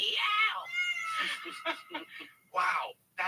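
A person imitates a cat's meow with their voice, drawn out and close, followed by a few short vocal bursts and another meow-like cry.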